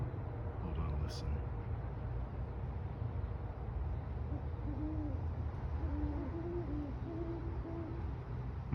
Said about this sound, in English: Kentucky owls. Common barn owls, I presume.